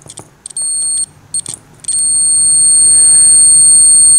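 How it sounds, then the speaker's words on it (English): Sharp electronic tester beeps while checking the thermostat of a Samsung DV40J3000EW dryer: a few short, loud chirps, then one steady continuous tone that holds to the end. "Alright, we got a beep."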